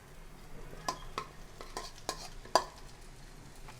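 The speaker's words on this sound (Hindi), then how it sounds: "भिंडी को अच्छे से मिक्स कर लेंगे मसाले के साथ" Fried okra is stirred into a masala in a pan. Soft, irregular spatula scrapes and light clinks sit over a faint, low sizzle, fairly quiet and close, with no one speaking.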